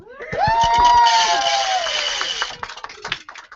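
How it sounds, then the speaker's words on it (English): A studio audience at a talk show breaks into applause with a rising cheer, a dense burst lasting about two seconds before tapering into scattered claps. "let's give you a wonderful, wonderful round of applause"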